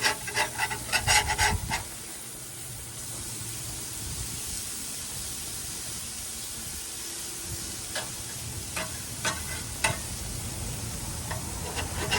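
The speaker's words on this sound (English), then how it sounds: "we're going to start flipping these burgers" Burgers sizzle on a grill in a steady, close hiss while they are flipped, with spatula scrapes and clicks at the start and again near the end.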